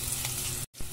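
Garlic sizzling in hot cooking oil in a pan, a close, steady hiss that briefly cuts out near the end and then resumes.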